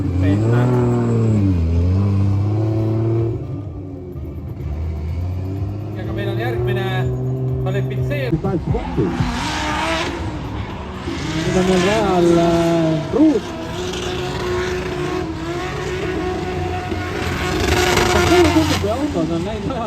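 Race cars roar and rev along the Kulbilohu track, their loud engines rising and passing while people talk over the noise throughout.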